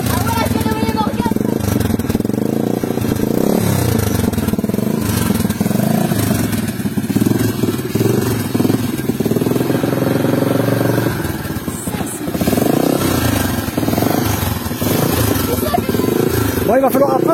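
An Apollo 125 RFZ motorcycle engine runs close by, rumbling and rising in short revs throughout, with people talking over the engine noise.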